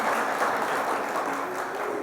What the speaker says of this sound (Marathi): जरा जोरात वाजा, मला दम वाटत नाही टाळ्यांमध्ये